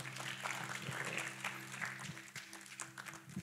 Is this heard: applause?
yes